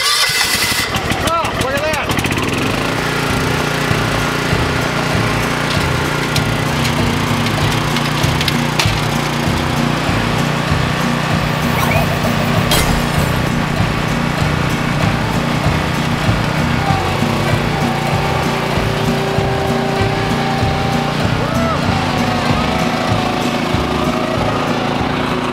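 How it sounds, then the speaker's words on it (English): A small 4-horsepower Briggs & Stratton petrol lawn mower engine runs steadily and loudly throughout, a constant buzzing drone with a brief sputter at the start. "Sensation lawnmower with the 4-horse Briggs and Scranton on it."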